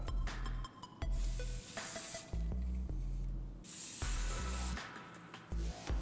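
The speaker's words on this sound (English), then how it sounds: "I'm going to hairspray it" Short, close bursts of hairspray hiss onto a small section of ponytail, several quick sprays with brief pauses between them and no talking.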